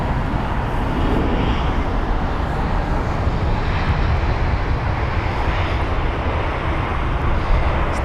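Three-year-old British Airways Airbus A320neo landing at London Heathrow, its engine roar steady and fairly close, with a broad rumbling wash that holds throughout and no voices.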